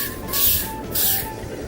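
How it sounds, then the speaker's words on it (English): Hairspray sprayed onto hair from an aerosol can in two short, close hissing bursts, each about a third of a second, with a quiet pause between them. "So I'm gonna just spray a bit of hairspray"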